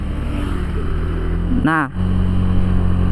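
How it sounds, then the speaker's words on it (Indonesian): A Honda Beat Deluxe scooter engine runs with a rough, growling note and revs up sharply in one brief burst midway, close and loud, with a short spoken word over it. "ini suara mesin lebih terdengar ngegerung"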